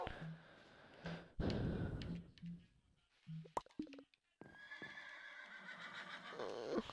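A Minecraft horse neighs and whinnies loudly several times, with soft hoof clip-clops and a few brief interface sounds between calls.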